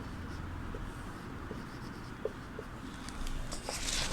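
Teacher writing an answer during a Hindi class, faint scratchy strokes of pen or chalk with soft taps in a quiet room, low and intermittent.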